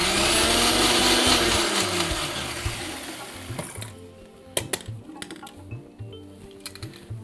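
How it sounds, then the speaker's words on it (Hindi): A mixer grinder whirring loudly as it grinds chutney, the motor winding down partway through, followed by scattered clicks and knocks of the jar and lid. "तो ये चटनी आप चाहें तो इसको थोड़ा सा कोर्स यानी कि दरदरा पीसें, या फिर महीन चटनी"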